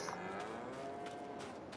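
Cattle in a farming simulation game give one long, low moo that holds steady for nearly two seconds, clear and moderately loud, with faint background noise.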